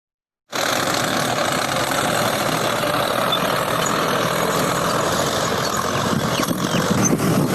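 Tractors cultivate a field during land preparation, their engines a loud, steady, rough drone that starts abruptly and keeps going, heard fairly close.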